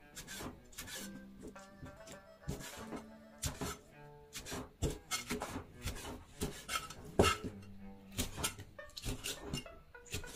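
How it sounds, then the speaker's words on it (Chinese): A knife cuts blanched beef intestine into pieces on a wooden board, with irregular chopping taps and scraping strokes close up, no talk over them. "再来把它切成结"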